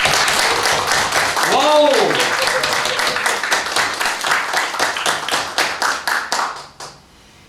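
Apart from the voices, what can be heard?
church congregation clapping for the volunteer team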